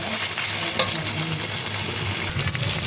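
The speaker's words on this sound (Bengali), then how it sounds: "দিয়ে আমি আবার কিছুটা নাড়িয়ে নেবো হালকাভাবে" Cumin paste and spices frying in a pan for a beef brain dish, a dense steady sizzle close up with soft scraping stirs mixed in, loud and without talk.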